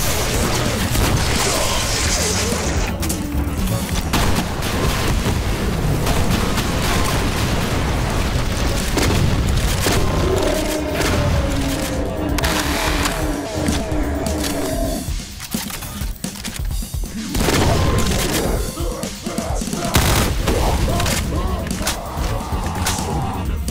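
Barrels explode in DOOM, modded with Project Brutality and played on the TNT: Evilution quarry map: heavy booms and crashes land in a busy, continuous stream of gunfire and combat noise, with no talk.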